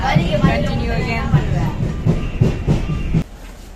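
A train in Chennai, Tamil Nadu rolls along with a steady rumble and repeated rhythmic clacks from the wheels, then the noise drops off abruptly near the end.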